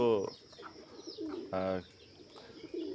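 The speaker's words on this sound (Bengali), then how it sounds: "এই যে রাফা সোহামনির মুরগি, এদের কবুতর, আমার দুই মেয়ের পালিত" Pigeons coo in a small backyard coop kept alongside chickens. Several soft, throaty coos come in separate bursts, close and moderately loud, over faint background chatter.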